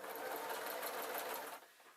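A sewing machine runs steadily while stitching quilt squares together, with a soft, even rapid whir that stops near the end.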